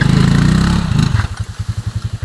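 A small motorcycle, a kolong-kolong, rides a rough off-road mountain trail while hauling coconuts. A loud engine drones steadily, then turns into a rhythmic, pulsing chug with clattering over the last second.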